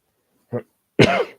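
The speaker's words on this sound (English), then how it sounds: "causing a bit of a cough" A short throat-clearing sound followed by a single harsh, close cough.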